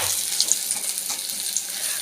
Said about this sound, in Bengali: এই যেখানে মাছ ভাজা হচ্ছে